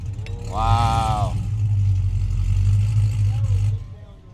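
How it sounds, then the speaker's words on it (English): A Mopar car at a Moparfest meet: a deep, loud engine rumble holds steady with a brief rising whine near the start, then the engine note continues close by before dropping off at the end. "It's not supposed to have a whine, this car."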